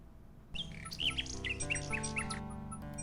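A nightingale in the video game King's Quest VI gives a run of bright squawking chirps over soft game music.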